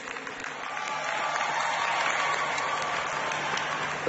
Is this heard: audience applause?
yes